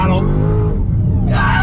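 Car engine pulling hard under throttle in second gear, a loud continuous close-up drone with rising harmonics, steady throughout with a brief brighter burst near the end.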